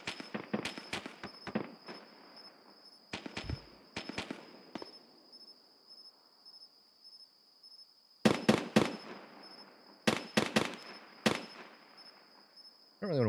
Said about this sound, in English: That's the guard shooting the BTR, not the BTR shooting